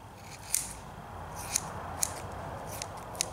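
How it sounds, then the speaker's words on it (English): Scissors snip through craft foam while carving a bump texture for a kaiju costume, four or five sharp, separate cuts close by over a faint steady background hiss. "Let me just trim these off here."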